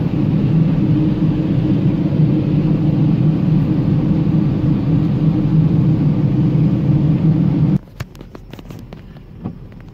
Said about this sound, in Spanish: hay bastante tráfico el día de hoy aquí